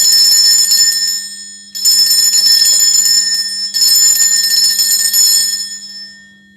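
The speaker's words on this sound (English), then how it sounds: "The ringing of the bell is just to cleanse the space around us." Three long bursts of a bright, loud metallic bell ring rapidly and continuously, close by, with short gaps between them and a fading tail at the end, used to cleanse a space.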